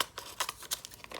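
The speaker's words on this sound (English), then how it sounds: "I'm just going to trim off what I'm not using. So just trim off the excess" Scissors trimming excess clear acetate for a handmade shaker card, a quick series of soft close snips and crinkles in a quiet room.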